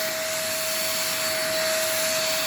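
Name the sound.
vacuum cleaner running during unboxing test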